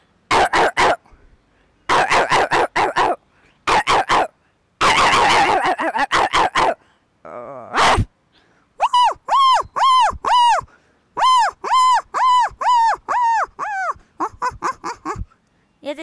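A voice imitates a bulldog barking, with gruff bursts, whines and a run of rhythmic, yelping barks, all loud and close with brief pauses between them.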